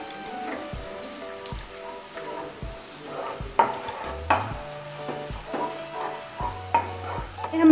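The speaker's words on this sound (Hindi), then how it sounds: "अब सेम प्याज में हम डालेंगे ज़ीरा, साबुत गरम मसाले, 1 मिनट के लिए इसको भून लेंगे।" Cumin and whole garam masala spices roast with onion in a pan for chicken do pyaza, giving a steady soft sizzle broken by repeated scraping stirs and clinks of a spoon, close and moderately loud with no talk.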